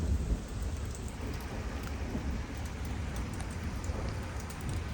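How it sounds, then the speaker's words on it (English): A springtime severe thunderstorm pours steady rain while low thunder rumbles beneath it, the downpour continuous and fairly loud throughout with no voices. "There's some thunder."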